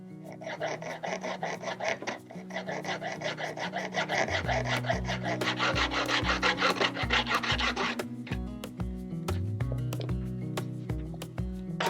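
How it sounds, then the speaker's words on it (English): A rough, rhythmic rasping of a tool trimming the end off a wooden plank on a small 2.4mR sailboat, steady strokes building in intensity, close and alone. "And now I am just going to trim that end off"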